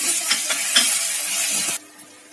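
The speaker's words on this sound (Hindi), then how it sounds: "इधर हमारी प्याज फ्राई हो रही है" Chopped onions and garlic with cumin fry in a hot pan, a loud close sizzle with a few stirring scrapes that suddenly drops to a faint hiss near the end, no voices.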